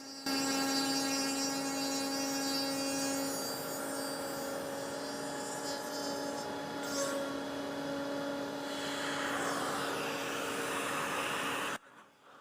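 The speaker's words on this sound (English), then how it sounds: "I'm going to route keyholes in the back, and that will allow me to fasten it securely to the wall" A router buzzes steadily while cutting keyholes into the back of a handmade wooden coat rack, a loud continuous motor whine that shifts in pitch as the bit works the wood, then cuts off near the end.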